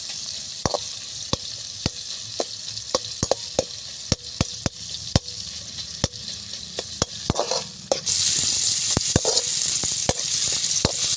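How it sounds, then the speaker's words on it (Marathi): Tomatoes sautéing in a pan for palak paneer, with a continuous close sizzle and many quick, sharp taps and scrapes of a spoon stirring, the frying hiss swelling louder toward the end; no one speaks. "टोमॅटो चांगले परतून घेतले आपण टोमॅटो आपण छान परतून घेतले"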